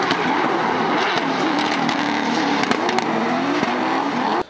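Modified, high-powered Lexus IS200/IS300 running on the Yas Marina circuit, a steady loud engine drone with sharp transient clicks and crackles throughout, cutting off abruptly at the very end.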